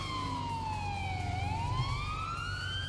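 A police siren in the video game GTA V wails in a slow sweeping tone, dipping then rising, steady and moderately loud over a low engine rumble.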